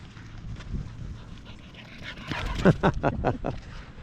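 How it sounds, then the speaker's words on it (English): A happy dog pants close by, with quick rhythmic breaths that grow louder and more urgent toward the end, mixed with faint whimpering. "One very happy dog."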